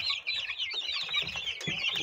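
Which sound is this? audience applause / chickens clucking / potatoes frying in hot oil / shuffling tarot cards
chickens clucking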